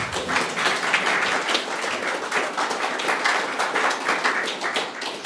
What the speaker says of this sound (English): Yeah, get your applause in now.